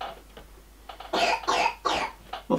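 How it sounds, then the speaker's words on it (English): A person coughs in several harsh, loud bursts close to the microphone, with short gaps between the coughs and quiet room tone around them. "the coughing ruined the illusion"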